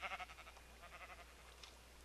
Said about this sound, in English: I just heard a sheep